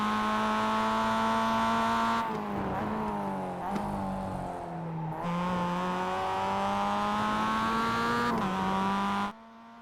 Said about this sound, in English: You can hear the early upshift there to third.